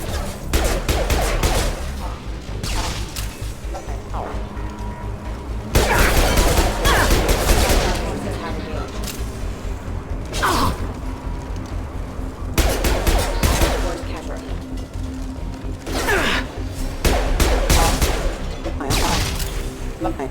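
Sustained automatic gunfire from security mechs in Mass Effect 2 on PS5, dense rattling bursts with brief lulls and heavier volleys, loud and close throughout a twenty-second firefight.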